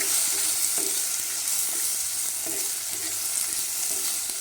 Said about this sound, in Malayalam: ഇവയെല്ലാം കൂടി വഴറ്റി കഴിയുമ്പോഴേക്കും നല്ല മൂത്ത് കഴിയുമ്പോൾ